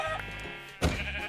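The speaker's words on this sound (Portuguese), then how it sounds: "tem uma farm de ovelha aqui" Sheep bleating in the Minecraft video game: a faint short bleat, then a louder one close by, with no talk.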